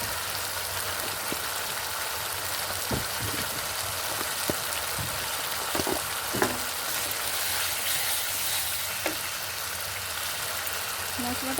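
Spiced fish curry paste for doi katla sizzles steadily in a pan while sautéing, a constant frying hiss with occasional stirring knocks and taps.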